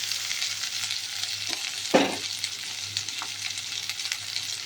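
Mutton fries in a pan with a continuous hiss and crackle. A brief scraping stir rises about midway, then the steady sizzle carries on, close and without talk.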